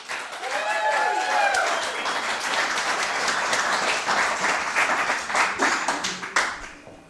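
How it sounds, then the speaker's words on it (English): An audience at a Pecha Kucha presentation night applauds a presenter, with brisk clapping building up and then tapering off near the end, while a voice is briefly heard at the start. "let's give her a round of applause"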